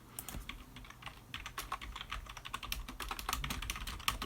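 Rapid typing on a computer keyboard, keys clattering in uneven bursts at close range with a few louder strokes, steady and alone without any voices.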